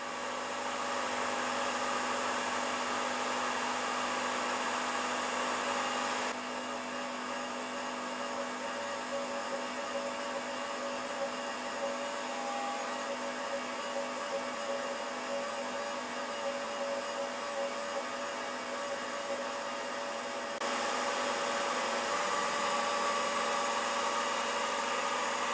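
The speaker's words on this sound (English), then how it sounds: "now it's just a matter of drilling to a depth of" A milling machine drills into the cast cylinder head of a Farm Boy hit-and-miss engine, giving a steady motor whine with tonal hum that shifts pitch as the cut engages and eases off, running alone and close.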